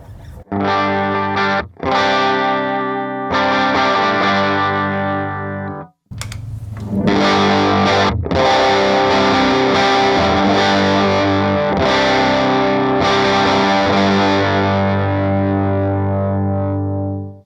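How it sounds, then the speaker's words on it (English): Electric guitar chords through a JHS Morning Glory V4 overdrive pedal pushing the amp into warm overdrive, strummed and sustained, loud and close, with brief pauses between phrases before a long ringing chord fades. "Essentially all it's doing is pushing the amp into a more natural overdrive"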